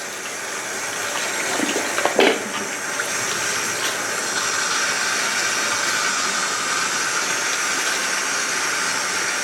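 Water runs steadily from a tap to rinse permed hair in a salon, a constant close rushing stream with a brief splashy burst early on.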